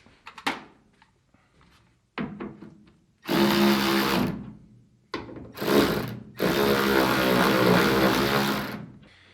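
A power driver loosens the bolts on an Altman latch striker plate in short bursts. A few quick clicks and brief spins lead into two long, loud, close whirring runs separated by a short stop.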